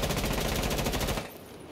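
Rapid automatic gunfire from a rifle fitted with a compensator and angled grip in Rainbow Six Siege, a loud continuous burst of evenly spaced shots lasting over a second before cutting off abruptly.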